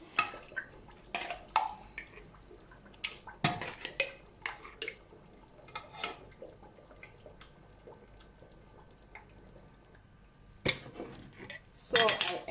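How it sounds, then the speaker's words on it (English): Metal cooking pots clank and scrape while being rinsed with a little water, bursts of clattering with soft trickles and drips between them, close and fairly quiet. "So I ended up rinsing it with small water. I rinsed all of them."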